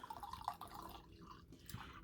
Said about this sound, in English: So we'll go ahead and pour that.